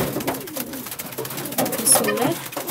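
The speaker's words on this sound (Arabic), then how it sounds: "حمامة طلعت من العشة وطارت." Pigeons cooing near a coop during the morning, with soft, repeated low coos and other bird sounds under a person speaking over them.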